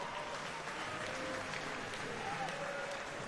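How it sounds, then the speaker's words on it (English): Applause from the audience at a swimming pool during the morning prelims of a TYR Pro Swim Series meet, a steady, fairly quiet wash of clapping that fills the hall, with faint voices underneath. "how about a round of applause for all the ladies getting things started this morning?"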